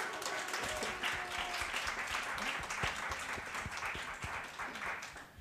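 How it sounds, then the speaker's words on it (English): Conference audience applauding a panel of speakers, a sustained wash of many hands clapping at moderate distance, steady and even across the whole stretch. "A round of applause for them."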